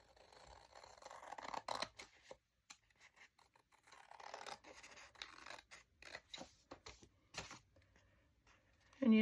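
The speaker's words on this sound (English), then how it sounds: "Scissors." Scissors snip and slide through paper while a new journal cover is cut at a craft table, giving soft, irregular close cutting and rustling, with quiet pauses between strokes and a faint clunk at the end.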